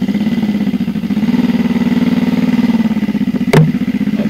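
A motorcycle engine running just after a new battery was fitted, a steady loud idle with a continuous low throb and a brief sharp spike near the end.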